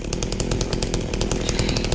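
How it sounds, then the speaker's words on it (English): A chainsaw revving in Silent Hill 2 Remake, a loud, close, continuous rasping engine drone with rapid chattering pulses throughout. "Ooh, he's got the chainsaw in this"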